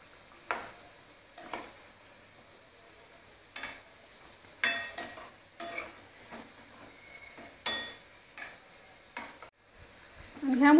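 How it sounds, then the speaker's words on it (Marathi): Churma dough fists for Rajasthani churma laddoo frying in oil, a faint low bubbling broken by irregular sharp clinks and scrapes as the pieces are turned, with no voices. "ह्या मुठ्या तुम्ही तुपात सुद्धा तळू शकता"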